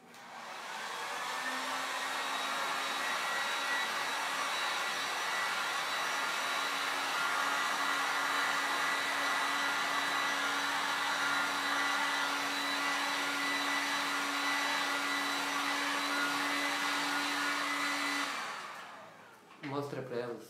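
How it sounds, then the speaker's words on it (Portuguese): A hair dryer blows steadily to dry a craft box, loud and close, with a constant whooshing roar and a steady hum lasting about eighteen seconds before it switches off, followed by brief handling noise. "Vou secar. Dar uma secadinha nova aqui."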